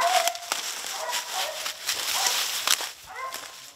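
Hunting dogs barking and yipping in the woods while chasing a black bear, scattered barks at a moderate distance with some whines, mixed with rustling and faint voices.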